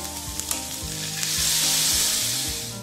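A chicken filling with onion, green chilli, black pepper and soy sauce sizzles loudly in a pan, the hiss swelling as it is stirred, with low scraping strokes beneath and no voices.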